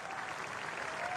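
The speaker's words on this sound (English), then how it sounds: "A good round of applause for Matt Henry." A crowd at a New Zealand versus Australia test cricket match claps in a steady, dense wash of applause, sounding moderately distant and even across the brief moment.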